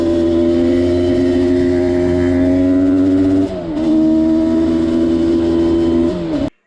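A Yamaha Banshee two-stroke twin on a 178 main jet, running rich and bogging at wide open throttle, drones loudly and steadily close by, with a brief dip midway before picking back up and cutting off at the end.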